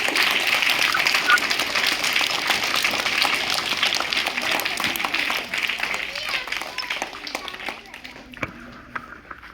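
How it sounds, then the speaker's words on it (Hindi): A crowd of schoolgirls at a small girls' school claps together after morning prayer, a dense steady patter that stays loud for several seconds before thinning and fading out near the end. "जोर ताली ताली लगाओ"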